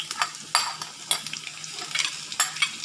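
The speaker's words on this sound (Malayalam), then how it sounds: "അത് നമ്മളിതിലേക്ക് നന്നായിട്ട് ഇട്ട് വഴറ്റുക" Chopped shallots sautéed in hot oil for a coconut-roasted sambar, a close crackling sizzle broken by repeated sharp scrapes and stirs of a spoon against the pan, no voices.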